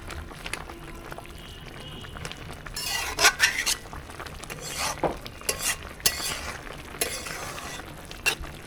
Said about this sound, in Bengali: ঢাকুনটা তুলে তরকারিটা একটু নেড়ে ছেড়ে দিই